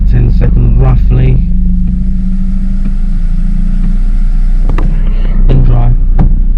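A Mercedes W203 C-Class engine idles with a steady low hum while its 722.6 automatic transmission is shifted between reverse and drive. Voices talk over the running engine throughout.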